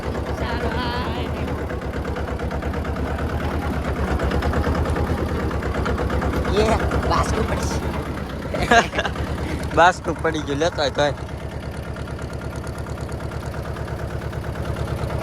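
A tractor engine runs with a steady low chugging throughout, close by, while people talk over it.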